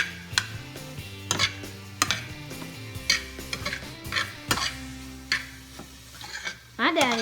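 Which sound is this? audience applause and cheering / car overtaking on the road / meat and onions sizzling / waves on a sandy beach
meat and onions sizzling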